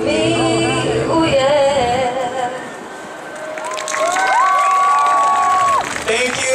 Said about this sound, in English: Everybody give a round of applause for Sachi.